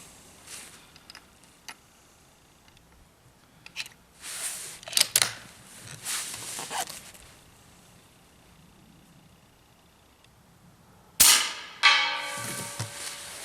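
A firearm fitted with a silencer is fired at a 100-yard range, giving a few soft, muffled puffs spread apart. A sharper crack comes near the end, followed by a ringing tail, over quiet outdoor background.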